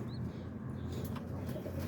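Boston ripping roller pigeons in a loft give soft, low cooing murmurs, a quiet continuous burble at close range with no talk over it.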